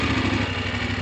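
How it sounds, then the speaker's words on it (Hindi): Motorbike engine idling before riding into snow at Sonamarg, a close, steady low throb with a rapid, even pulse. "बर्फ में मारते हैं एंट्री अपनी बाइक की"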